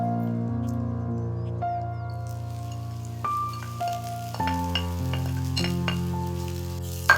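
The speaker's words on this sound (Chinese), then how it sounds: "煎土豆一共需要10分钟左右。" Small potatoes pan-fry in a skillet, a soft sizzle with occasional stirring sounds beneath louder background music.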